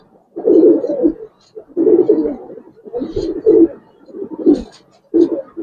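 A male Giribaz pigeon coos close by in a series of five rhythmic, throaty bursts separated by short pauses, clear and loud with no speech.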